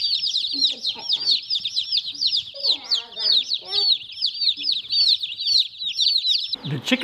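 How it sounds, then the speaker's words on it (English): A crowd of young chickens in a coop cheeps constantly in high, rapid peeps, with a few lower clucks and brief murmurs mixed in nearby. "The chickens appear to be settling in okay."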